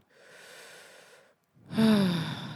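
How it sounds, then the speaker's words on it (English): Slow deep breathing with a long, soft inhale followed by a brief pause and then a louder, fuller exhale, sounding close and intimate with no speech. "So I like to do long inhales, exhales, and soft belly breathing."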